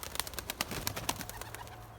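A young grey pigeon lying down after bathing gives soft, low coos amid a cluster of sharp, rapid clicks and rustling, all faint and close, with no voices.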